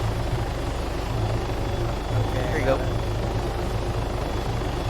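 Arma 3 helicopter rotor and engine drone holding steady throughout, heard continuously beneath someone talking.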